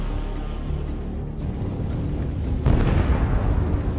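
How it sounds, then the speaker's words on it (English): A drone strikes the external fuel tank suspended behind an armoured infantry fighting vehicle, setting off a powerful explosion: a low, continuous rumble that swells into a sharper, louder blast partway through, then stays as a heavy, roaring noise. "The second drone hits the fuel tank suspended behind the vehicle."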